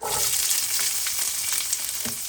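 Onion frying in hot oil with popping cumin seeds, a steady close sizzle with crackling pops and brief stirring scrapes throughout.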